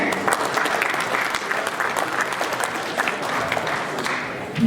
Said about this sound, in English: let's give a round of applause to our producer panel.